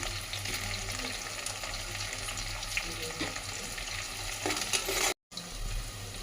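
Mint leaves frying in a pan during home cooking of a tomato-based dish, a steady close sizzle with soft stirring scrapes and a brief dropout near the end.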